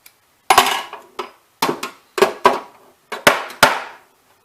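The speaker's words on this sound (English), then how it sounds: "you're supposed to pry the cage open with one piston, then insert your piston" Metallic clicks and clanks of a piston being pried and seated into the cage of an Omark 110 .25 caliber low-velocity powder-actuated tool, about eight sharp close knocks in an uneven rhythm, alone.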